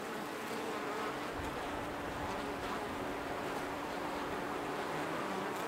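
Steady, dense buzzing of many honeybees hums continuously, a close tree hive swarm droning without pause.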